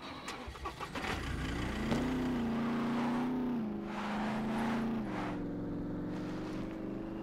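Armored truck engine in the survival game SCUM, starting up and settling into a steady, close droning hum with a slight pitch rise and dip as it drives, heard alone without talk.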